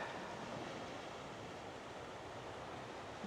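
Steady broadband ocean surf at Rincon, Puerto Rico, a continuous even wash of waves rolling in without pause at moderate level.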